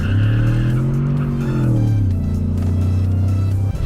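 A 2021 Ford Bronco accelerates in sport mode, its engine droning loud and close with pitch rising, then falling back briefly as it shifts, then holding steady, with no talk.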